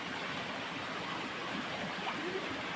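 A river flows with a steady rushing, gurgling wash at a camping spot, continuous and fairly close, with no voices over it.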